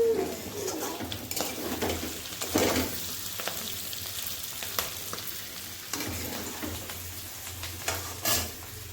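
A pan on a home stove in a kitchen sizzles and fries softly with occasional clinks of utensils against cookware, while faint bird calls come from outside; no speech.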